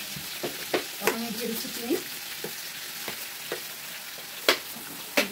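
Mango pickle in hot oil sizzles and crackles steadily as it is stirred, with sharp spoon scrapes against the pan recurring throughout; someone speaks briefly over the frying.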